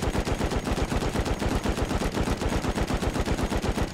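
An HMLG machine gun in the game Rust fires one long, rapid, evenly spaced burst, loud and close, with no talk over it.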